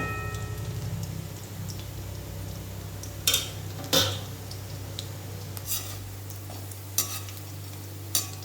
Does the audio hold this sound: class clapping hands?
no